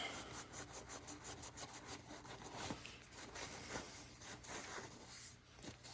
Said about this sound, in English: I'm just gonna take my rag with a little bit of carburetor cleaner and just wipe down this surface to get any grease or oil or RTV off of it